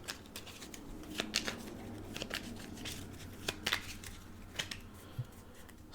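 Adventure and action cards of a board game being shuffled, a run of soft papery riffles and snaps with a few sharper card flicks, close and quiet, no talking.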